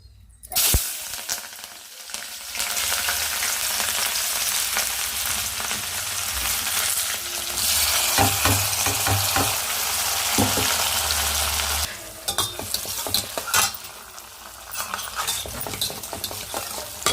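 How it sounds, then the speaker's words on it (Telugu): Onion and green chilli dropped into hot oil for beetroot pepper rasam, a loud continuous sizzle with repeated scraping stirs and spoon clinks against the pan. "ఆయిల్ అయితే బాగా వేడింది కదా ఉల్లిపాయ పచ్చిమిర్చి వేసుకుందాం"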